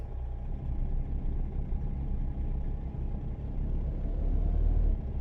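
A big Kenworth W900 truck engine in American Truck Simulator rumbles low and steady, a continuous deep drone that swells slightly near the end.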